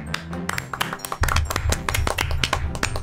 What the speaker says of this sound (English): Clap, claps to the fans.